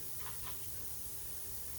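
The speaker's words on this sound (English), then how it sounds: "Give her a spray off with brake cleaner." Aerosol brake cleaner sprayed onto a rear brake rotor of an Audi A4 during a brake job, a steady close hiss lasting nearly two seconds over broadband noise, with short, slightly stronger puffs near the start.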